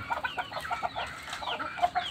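Aseel chickens cluck in short, repeated bursts close by, and a restless rooster adds a few sharper calls near the end.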